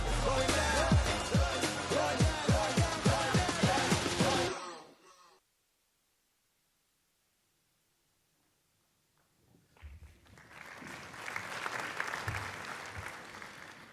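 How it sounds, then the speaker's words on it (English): A crowd at a football match bursts into loud applause and cheering after a goal, fades to near silence, then rises again into a broad roar. "Crowd goes mad."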